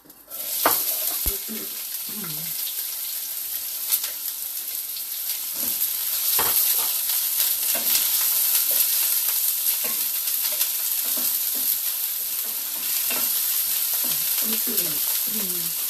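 Onions sizzle steadily in hot oil in a pan, a bright continuous frying hiss with occasional stirring scrapes and clinks, close and fairly loud throughout.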